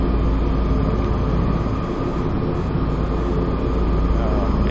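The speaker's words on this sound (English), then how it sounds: "the S92, it's not my favorite helicopter" A Sikorsky S-92 helicopter in flight in the X-Plane 11 flight simulator over the Dolomites, giving a steady, loud engine and rotor drone that holds unbroken from start to end.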